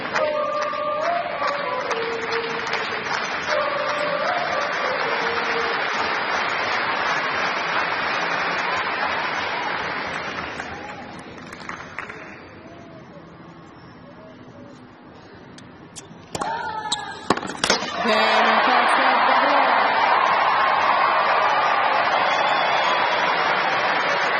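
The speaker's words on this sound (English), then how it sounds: "Delirious reaction from the predominantly Australian crowd at courtside." A predominantly Australian courtside crowd at the 2016 Australian Open women's match between Mladenovic and Gavrilova roars and applauds loudly. The noise fades briefly mid-way, then surges back into sustained cheering.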